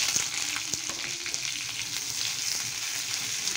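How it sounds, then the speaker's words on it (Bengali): Onion frying in oil in a wok over bay leaf and cumin, a close steady sizzle broken by scraping stirs and light clinks, with no voices. "এবার দিয়ে দেব পেঁয়াজ।"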